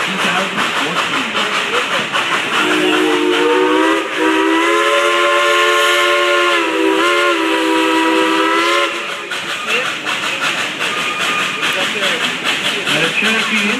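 Steam whistle of Dollywood Express Engine 192, a steam locomotive, blowing a loud, sustained harmonic chord for several seconds over steady hiss and train noise, with a shorter blast following.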